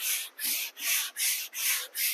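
Sandpaper scrubs over dried drywall joint compound in quick, even back-and-forth strokes, about six close, loud passes with brief pauses between them.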